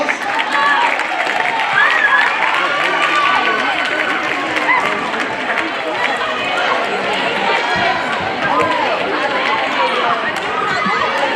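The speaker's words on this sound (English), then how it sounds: "let's welcome our next class, period 5, with a big round of applause" A school auditorium audience claps and cheers in a dense, continuous wash as a class is welcomed for a history class drum show, with loud chatter mixed throughout.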